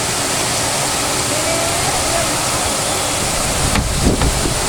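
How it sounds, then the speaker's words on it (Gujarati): A heavy evening downpour driven by strong wind, a loud, unbroken roaring wash of rain, with a few dull knocks and bumps near the end. "સાંજ પડ્યા આપણે ધોધમાર વરસાદ થઈ ગયો છે ચાલુ પાછો"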